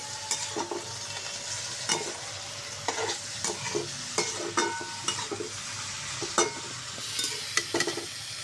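Mixed river fish and onions sizzle in a frying pan, with a steady fry hiss broken by repeated scraping stirs of a utensil at close range and no talking.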